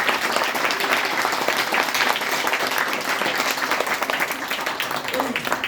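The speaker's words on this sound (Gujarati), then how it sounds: "સાથોસાથ સાહેબનો પણ આપણે તાળીઓ પાડીને ખૂબ ખૂબ આભાર માનીએ." A school audience at a primary school thank-you ceremony claps steadily and densely throughout, a sustained, close wash of many hands without pause.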